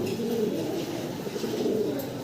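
Domestic pigeons coo softly in a Bangladeshi pigeon seller's loft, a low, throaty, repeated burbling that is close and steady throughout.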